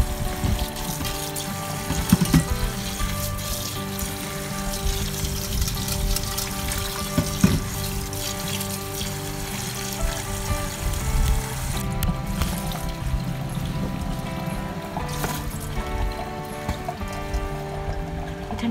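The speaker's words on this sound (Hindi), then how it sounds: "ठंडा पानी ऐड करते जाएं" Cold water runs steadily over drained chow mein noodles in a pot, a continuous rushing, trickling stream that lasts for many seconds with occasional louder splashes.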